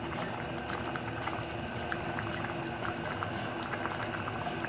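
A pot of tomato sauce seasoned with sugar, basil, oregano, sweet paprika and salt simmers and bubbles softly, a steady low gurgle and patter with no voices.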